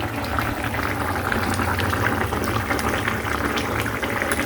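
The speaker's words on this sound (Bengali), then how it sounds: "থানকুনি পাতা আলু আর হচ্ছে কি মাছ কই মাছ দিয়ে তরকারি রান্না করতেছি" A pot of thin koi fish curry with potatoes and thankuni leaves bubbles at a steady boil, a dense, even wash of liquid noise that carries on unbroken without any speech.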